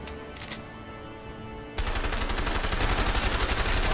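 Rapid automatic gunfire from the video game A Way Out, a sustained loud burst of shots that starts abruptly partway through after a quieter stretch of ambient game sound.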